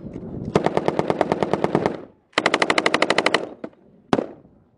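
M240 and M249 machine guns fire in two long, intense bursts of rapid, evenly spaced loud shots, separated by a short gap and followed by a few single close cracks.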